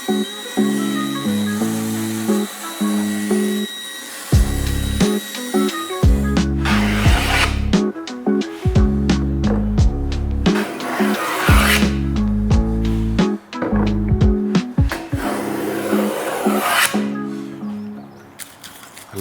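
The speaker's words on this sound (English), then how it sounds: "Now I will just cut off the excess parts of the board that I won't need." A 6 mm splashback board for a freestanding oven is cut with a power tool, rasping and whining in repeated bursts of a few seconds each, loud and close, with short pauses between cuts.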